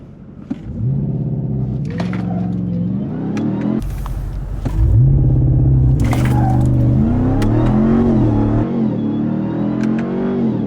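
A Ram TRX Hellcat pickup truck engine revs hard and climbs in pitch during a 0-60 launch, with gear changes breaking the roar; loud and close, no talking.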